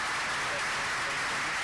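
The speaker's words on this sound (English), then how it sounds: "So please have a round of applause." Audience applause for panelists at a hip hop business panel, a continuous wash of many hands clapping, fairly soft and even, with faint voices mixed underneath.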